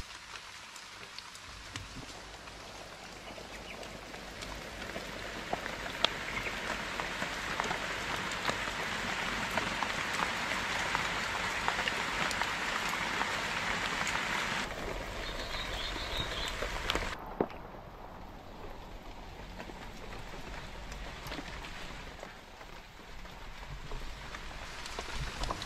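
Steady rain falls in jungle on a remote island, a dense close hiss of drops on leaves and surfaces that continues throughout, thinning and quieting toward the end.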